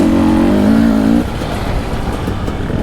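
Dirt bike, a Husqvarna TE250i or KTM 300 XCW, riding dense forest single track, its engine droning loudly and steadily with a higher tone at first before settling into a lower, rougher running note.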